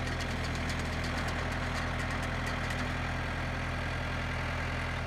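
A post hole auger engine keeps running at a steady idle after its throttle is cut, a continuous even mechanical drone with a faint knock, close and alone.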